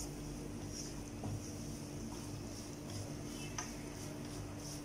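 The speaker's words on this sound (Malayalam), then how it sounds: "ഇത് നന്നായിട്ടൊന്ന് ഇളക്കാം." Shrimp curry masala being stirred in a pan, a steady low scraping and shuffling texture with occasional soft clinks, continuous and fairly quiet with no talking.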